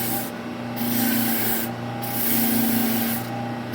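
A rubber abrasive cleaning stick is pressed against clogged sandpaper on a running sander, giving a steady, close, loud rubbing and grinding hiss with a gently rising and falling rhythm.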